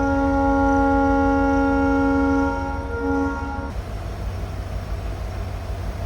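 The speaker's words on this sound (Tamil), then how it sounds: "ஹார்ன் வந்து ஒரு லாங் ஹார்ன் கொடுப்பாங்க." A WDP diesel locomotive sounds a long, steady two-tone horn while departing Palakkad Town at the start of a Walayar Ghat section journey, loud and sustained for several seconds before cutting off into rumbling train noise.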